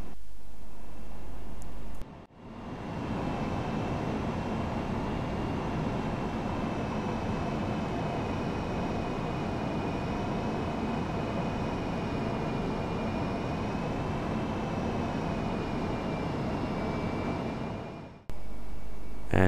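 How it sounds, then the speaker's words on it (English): A Boeing 767 in a flight simulator game on approach to Vienna Airport runway 34 in moderate turbulence and a left crosswind, a continuous loud engine and wind roar with a faint whine, starting and stopping abruptly. "an other example of a Boeing 767 landing at Vienna Airport on runway 34"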